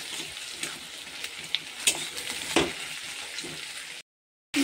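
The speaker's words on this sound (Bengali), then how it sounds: "কাঁচা লঙ্কা আলুটা দিয়ে ভালো করে নেড়ে নেব" Potatoes stir-fried with onions and green chilies sizzle steadily in the pan, with spatula scrapes and clinks standing out now and then, before a short silence near the end.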